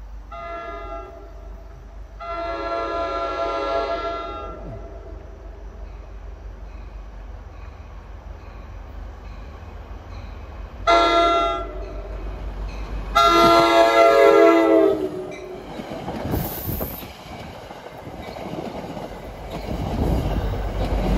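NJ Transit train with blue Heritage-livery locomotives sounding super horns, several loud sustained horn blasts in separate bursts over a steady rumble of passing rail cars and wheel noise.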